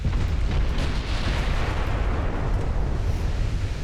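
Heavy broadband rumble from dreadnought battleship guns firing in a French campaign naval game. Continuous booming roars roll on without clear separate blasts.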